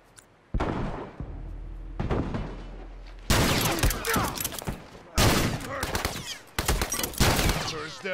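Rifle gunfire in The Last of Us Remastered: bursts of loud shots crackle in several clusters, near and harsh, mixed with shouting voices and game combat noise.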